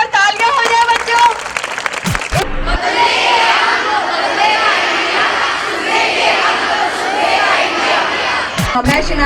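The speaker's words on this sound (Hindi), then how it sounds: "एक बार तालियां हो जाए बच्चों" Schoolchildren applauding in a school gathering, a loud, dense burst of clapping mixed with crowd noise and cheering that swells and holds, with voices heard before and after.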